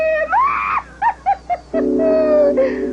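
A short, high-pitched rising shriek, like a scream from a character in a children's educational puppet show. A few brief vocal yelps follow, then a sustained buzzing tone.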